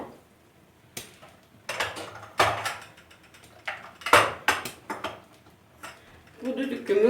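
A heavy pressure cooker lid handled in a home kitchen while cooking chickpeas: scattered metallic clanks, taps and scrapes of pots, close and fairly quiet, with a few sharp knocks.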